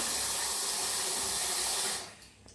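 Water poured from a tap or jug over one cup of frozen, hardened field beans in a bowl, a steady loud splashing rush for about two seconds that stops abruptly, leaving quiet room tone.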